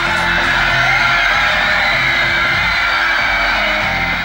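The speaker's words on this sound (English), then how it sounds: "that early morning won't stop the screams" Crowds of Beatles fans scream at an airport arrival at 5 a.m., a loud, dense, unbroken wall of shrill screaming and yelling from many voices, close and sustained.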